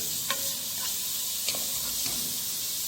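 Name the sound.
chopped onion frying in a pan while being stirred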